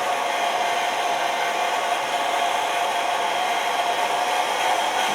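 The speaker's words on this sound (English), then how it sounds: "With the hair dryer, you can hold it a little bit longer on the plastic so it doesn't warp it." A hair dryer blows steadily at close range onto a plastic model, a constant loud whoosh of air with a faint motor whine and no pauses.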